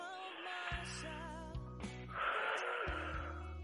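A long, deep breath drawn during a workplace relaxation exercise, an audible airy inhale building partway through and then easing, set against soft sustained background tones.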